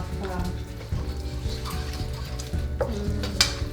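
Aubergine curry being stirred in a pan: a steady scraping and stirring with a faint sizzle underneath, a few clinks of utensil on pan, and people talking over it.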